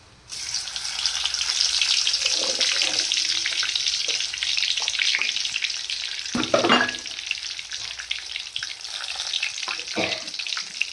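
Cinnamon and fennel spices fry in a hot pan with a steady, close sizzle throughout, broken by a few louder scrapes and clatters of stirring around the middle.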